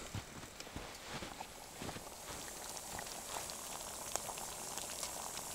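Snow meltwater, about 700 ml, boils in a kettle on a turbo hobo stove, a faint steady bubbling hiss with occasional soft knocks and clicks, heard alone outdoors.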